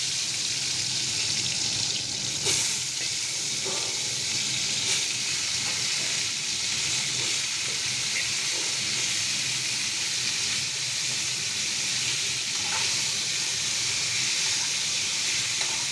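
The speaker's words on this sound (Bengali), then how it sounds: "এই দেখুন বন্ধুরা, এটা আমি এমনি করে ভাজছি।" Food frying in a pan for a homemade curry: a continuous loud sizzling hiss with occasional small pops and crackles.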